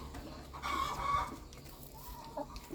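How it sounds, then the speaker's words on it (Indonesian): A free-range village chicken clucks quietly nearby, a short burst of clucks followed by a softer call, set against faint outdoor background noise. "Jadi seperti ayam kampung biasa."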